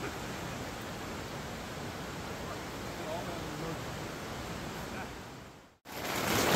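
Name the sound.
heavy pouring rain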